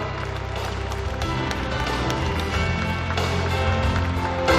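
An audience at Kim Kyo-heung's book launch applauds steadily to welcome former prime minister Chung Sye-kyun, a dense, even wash of clapping from many hands that holds for several seconds.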